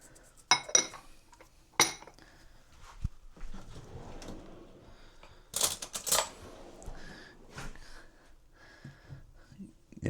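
Metal utensils mix salt into a mango chicken bowl, giving sharp clinks and taps against the bowl. Sparse scraping and stirring sounds run between louder knocks, close by and with no talking.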